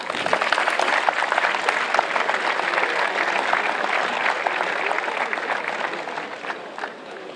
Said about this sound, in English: Please give a warm applause to László Toroczkai